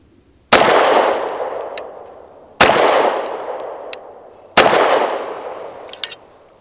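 Three loud, sharp pistol shots from a BUL Armory TAC PRO 5-inch, fired at an even pace about two seconds apart, each cracking close by and leaving a long ringing decay.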